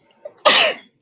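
A single loud, close sneeze bursts out sharply after a short intake of breath, then trails off quickly into silence.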